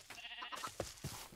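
Sheep bleating in Minecraft, a couple of short nasal cries standing out over a soft game background, with no one talking.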